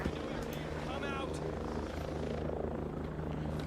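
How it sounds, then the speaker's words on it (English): In the video game Ghost Recon Breakpoint, a helicopter hovers and flies overhead with a loud, steady rotor drone filling the scene, while voices talk over it. "We're watching this helicopter"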